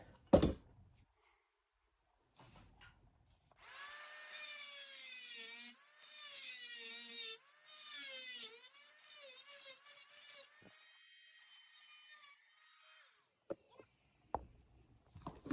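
An oscillating power tool cuts a box outline into a plaster wall near a stud during shower prep. It whines in bursts with shifting pitch over several seconds, with short pauses between passes and a few knocks near the end.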